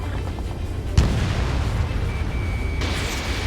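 Missile launch in the Ace Combat 7 flight game: a sharp boom opens a loud, steady roaring rush that carries on for several seconds, with a brighter hiss joining near the end.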